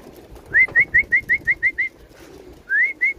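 A rapid, evenly spaced series of high whistling chirps sounds close by at a loft where racing pigeons are arriving, followed by a short pause and then another burst of the same chirps.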